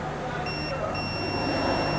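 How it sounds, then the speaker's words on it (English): A multimeter beeping during a continuity test on a solenoid connector of a 2009 Town and Country, a steady high electronic tone broken by one short gap, faint beneath the room hum. "You hear the beep?"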